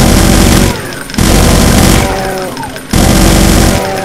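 Sustained automatic gunfire in the Brutal Doom v20 video game, loud and dense, with rapid bursts broken by two brief pauses.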